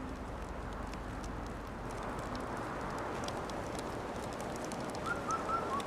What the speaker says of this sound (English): Okay, I hear the bird.